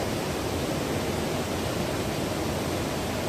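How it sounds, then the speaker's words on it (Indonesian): Steady, dense roar of water pouring down the Jurug Blinguk waterfall in Ponorogo, close and constant with no pauses and no voices. "Memang ukuran air terjun ini memang ekstrim sekali tempatnya."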